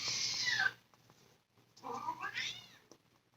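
Cats meow in two long, drawn-out, wailing calls separated by a short pause, fairly close and loud against a quiet indoor background with a faint low hum.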